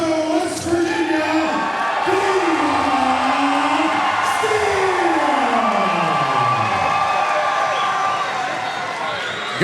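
A boxing crowd at the Red Devil Rumble fight night in Haico, West Virginia roars steadily and loudly throughout, with rising and falling siren-like wails sweeping over the packed-arena din.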